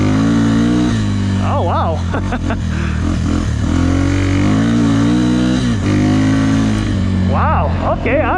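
Yamaha TTR 250 dirt bike engine humming and revving loudly while being ridden, with a steady close drone that swells and drops as a rider speaks over it.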